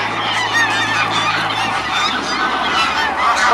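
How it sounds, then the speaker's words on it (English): Swans on a frozen-weather canal honking loudly and repeatedly, several close birds calling over one another in a dense, continuous chorus under a low steady engine hum. "I think we got 7 swans are swimming"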